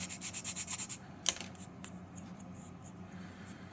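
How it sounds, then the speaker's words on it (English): A small tab on a wooden Model Shipways dory model part is sanded by hand with about eight quick, quiet rhythmic strokes. A faint scrape follows, then near silence. "I'll sand it."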